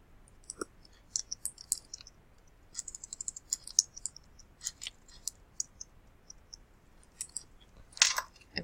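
Typing on a computer keyboard, quick irregular bursts of crisp key clicks close by, pausing briefly between runs, with a louder clatter near the end, no talking.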